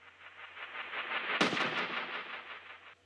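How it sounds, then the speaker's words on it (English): A single gunshot sound effect bursts out over a droning tone, followed by a few quick echoing repeats that fade. "in the intro, we have this gunshot effect. I had it kind of like lead up into it. I put a delay on it"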